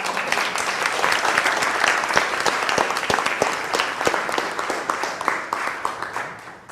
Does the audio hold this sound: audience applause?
yes